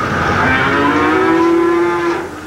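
A calf in a veal barn gives one long, loud, close moo that rises and holds its tone before trailing off, with no other voices.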